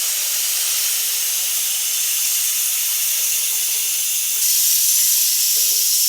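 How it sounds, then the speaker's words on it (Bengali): Water hitting a hot pan of cooked tomato and spice masala sets off a loud, steady steam hiss that fills the clip and swells briefly near the end, with no voices. "আমি জল দিচ্ছি"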